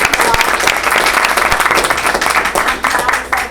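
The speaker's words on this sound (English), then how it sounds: "let's give everybody a round of applause" People at a school board meeting give a round of applause, close, brisk clapping from a modest crowd with distinct individual claps standing out, steady across the few seconds.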